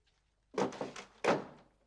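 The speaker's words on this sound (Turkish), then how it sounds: "sen kapıyı yüzümüze kapatıyorsun ya" A door shut hard in a Turkish comedy scene: two close wooden thuds about two-thirds of a second apart, the second louder, with no voices.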